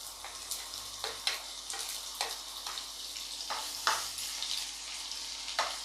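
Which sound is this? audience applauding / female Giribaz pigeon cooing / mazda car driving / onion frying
onion frying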